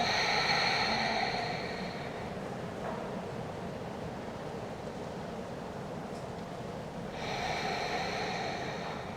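Slow, deep breathing during a power yoga flow: a long, airy inhale, a quiet pause, then another breath rising near the end, soft and close with no voice.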